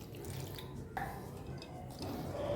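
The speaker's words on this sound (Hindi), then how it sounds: "इस तरह खोल के इसमें अब मैं सादा पानी डालूंगी।" Plain water splashes and trickles onto lemon-curdled paneer wrapped in a cloth for rasgulla, a short, close, uneven pouring with drips.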